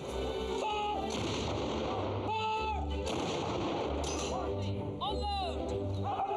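Loud booming blasts of a 21-gun artillery salute for a royal birthday ceremony go off at intervals over a continuous crowd murmur, with brief voices and whistling tones between the shots.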